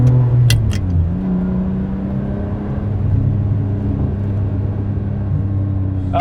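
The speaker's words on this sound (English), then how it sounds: "This is a proper V12. Of course, this still sounds nice." A 1997 Ferrari 550 Maranello's V12 engine pulls steadily under acceleration, a smooth, close, continuous drone whose pitch climbs and shifts, with brief clicks near the start and no talk.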